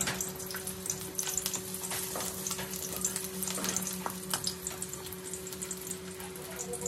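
Garlic frying in hot oil, a dense continuous crackling sizzle with scattered pops and a faint steady hum underneath, close and fairly loud throughout.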